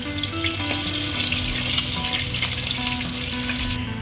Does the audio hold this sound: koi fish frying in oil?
yes